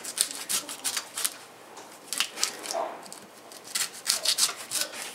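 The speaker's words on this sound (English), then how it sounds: "What I do is I shave this off so I can get to the hard actual coconut" A knife shaves the husk off a young Thai coconut in short, rasping scraping strokes, close and fairly quiet, repeating in irregular bursts.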